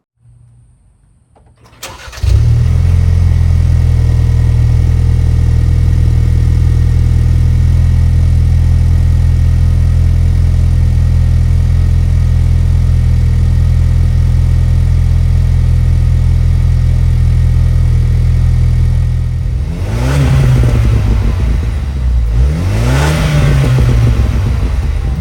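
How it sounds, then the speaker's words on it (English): A Ford Bronco with a CVFab aftermarket exhaust cranks and fires on a cold start into a loud, deep idle that rumbles steadily, then revs sharply twice near the end before settling. "I am gonna show a sound clip of the exhaust"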